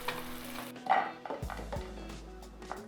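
Kung Pao shrimp with cashews being stirred in a pan, with soft scraping and clinking of a utensil against the pan over a faint sizzle, close and brief, without talk.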